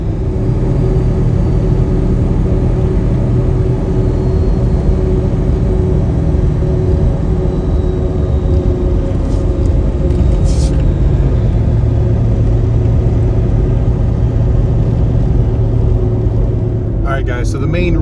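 A Ford Excursion SUV cruising on a small-town road, heard from inside as a loud, steady engine and road rumble with a low droning hum throughout and faint higher rattles near the end.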